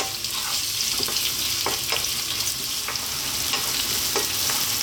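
Chopped onion fries in olive oil over medium heat for an eggplant arrabbiata sauce, a continuous even sizzle broken by occasional soft stirring taps, with no voices.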